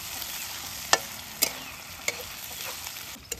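Mutton masala with green chili paste being stirred in a frying pan, a low steady sizzle punctuated by a few sharp scrapes and taps of a spatula against the metal.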